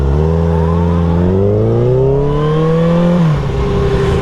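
High-mileage 2016 Kawasaki ZX6R sport bike engine revving while riding, pitch climbing steadily through the gear then dropping sharply on a shift, loud and close with steady wind rush and no talk.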